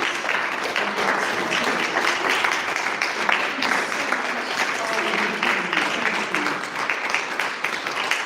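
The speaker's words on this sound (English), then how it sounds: "let's have a huge applause for our wonderful speakers" Audience applause for speakers at a public comment training event, a steady dense wash of clapping that holds at an even, fairly loud level throughout.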